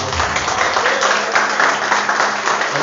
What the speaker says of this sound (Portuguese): salva de palmas para o Senhor.